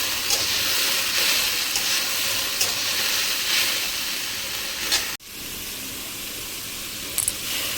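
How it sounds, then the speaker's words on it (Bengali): Ash gourd (rice pumpkin) fries in a pan with a steady, loud sizzle that fills the scene, broken once by a sudden brief drop before the crackling hiss resumes at the same level. No one speaks. "এবার এটার কালারটা চেঞ্জ হয়ে যাওয়া পর্যন্ত ভেজে নিতে হবে।"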